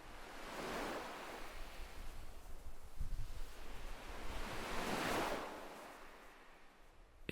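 Ocean waves break on a sandy beach in two slow, rolling surges, a hiss of surf swelling and fading between them, soft and fairly distant with light wind.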